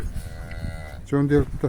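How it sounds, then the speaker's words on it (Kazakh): A cow lets out a loud, close moo near the end, preceded by a quieter low lowing against faint background noise. "Қара сиыр келатыр"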